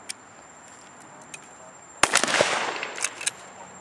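Shotgun fired at a target on a shooting range, a sudden loud close blast followed by a noisy, crackling burst with a few sharper reports, after a few faint clicks.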